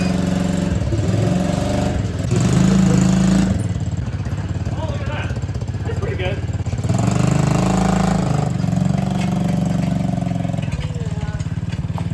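A mini quad's small engine runs while pulling a homemade trailer, buzzing loud and near with surges and dips in revs, and people talk over parts of it.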